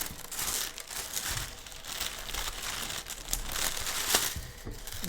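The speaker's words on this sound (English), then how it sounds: "So I'm going to first take out this tape." Continuous crackling and crinkling as tape is peeled off tissue paper nearby, with a few sharper ripping spikes and no voices.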